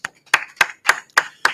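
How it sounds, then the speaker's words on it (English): Hands clap six times in an even, steady rhythm, close and crisp, with no voices over them. "Clap it up, clap it up,"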